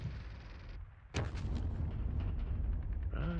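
Mortar rounds firing in the WWII strategy game Squad Battles Red Victory at Ponyri: a sharp heavy blast after a brief lull, followed by rumbling detonations and a trailing crackle.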